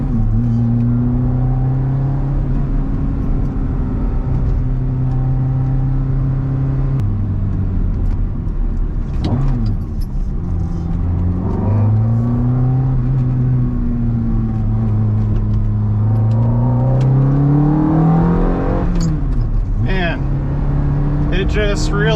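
Ferrari F430 converted to a manual transmission, driving along a road with a steady engine drone that eases off and then climbs again under acceleration, loud and close from inside the car, with someone talking over it.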